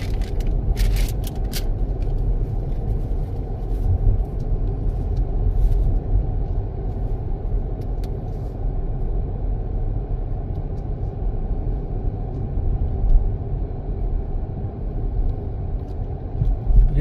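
A car driving through city streets, heard from inside as a steady, loud low-frequency engine and road rumble that runs continuously with no talking, broken only by a few brief clicks and rattles near the start.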